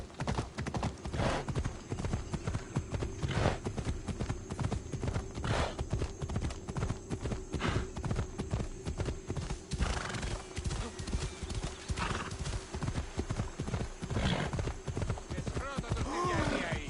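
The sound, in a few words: horse galloping hooves in video game Assassin's Creed Odyssey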